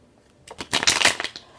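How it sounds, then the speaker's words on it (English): Tarot cards shuffled by hand during a reading, heard as a brisk run of crisp riffling bursts that builds over about a second, close and fairly loud, with no talking. "So right now, I'm just going to shuffle the cards for the Gemini."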